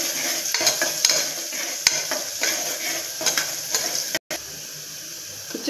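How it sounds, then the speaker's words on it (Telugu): Onions sizzling steadily in a pan, seasoned with turmeric and salt, while a spoon stirs and scrapes through them with repeated close clinks, and a brief dropout near the end. "చూడండి, ఆనియన్స్ వేగాయి కదా"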